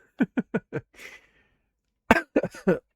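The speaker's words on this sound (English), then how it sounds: "this cough is new as of an hour ago" Four quick, sharp coughs in a row, a short breathy exhale, then after a pause another burst of three or four coughs, close and distinct.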